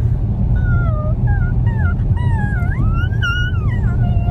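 A dog whimpers and yips indoors in a bathroom, a string of high, wavering whines rising and falling close by over a steady low rumble.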